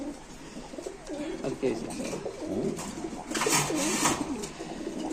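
Pigeons coo in cages at a wholesale pigeon market holding five to six hundred birds, with overlapping rolling coos close by and people talking over them throughout.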